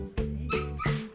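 A small Papillon dog gives rapid, close, high-pitched yips and whining whimpers, three strained bursts in quick succession filling the short stretch loudly.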